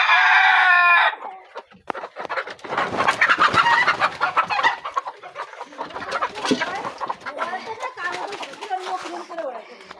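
Chickens cluck and squawk on a small home farm where hens are laying eggs, with a dense, busy flock heard close by and a person talking over it.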